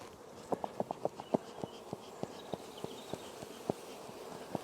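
Honey bees buzzing around an opened hive as it is smoked, a soft continuous drone with a series of sharp regular clicks or taps running through it.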